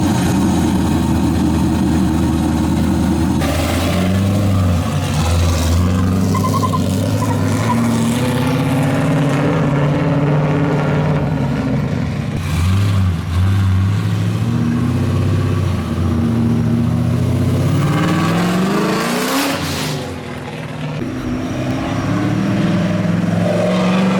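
A Nissan 240SX's engine drones and revs steadily through pulls on an open road, pitch rising and falling as it accelerates and shifts, loud and close throughout.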